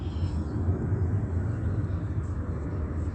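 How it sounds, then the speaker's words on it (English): Steady low, dense rumble like a jet or propeller plane taking off, continuous and moderately loud throughout, with faint background noise and no clear voices. "a sound of a plane taking off"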